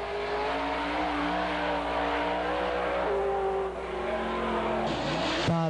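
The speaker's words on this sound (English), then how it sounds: "Unidentified Monte Carlo, experiencing some awful tire shake there." A Monte Carlo drag racing car launches down the strip with heavy tire shake, its loud engine roaring and shifting pitch under a squealing, chattering tone, ending in a sharp sweep as it passes.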